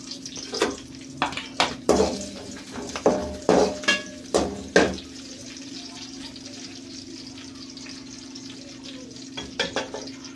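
Sliced onion, fennel and curry leaves sauté in a pan, with a run of sharp metal spatula scrapes and knocks during the first half, then a quieter stretch of low sizzling before a few more clinks.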